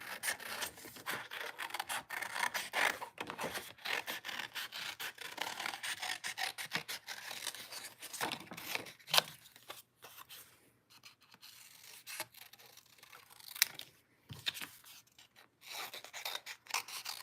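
Paper being trimmed down for handmade card making, a long run of dry rasping and sliding strokes across the cutter, close and fairly quiet, with short pauses in between and no talking.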